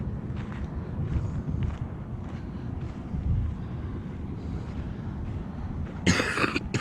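A hiker on a desert mountain trail, suffering a desert cough or chest cold, coughs once near the end, loud and close over steady wind buffeting the microphone.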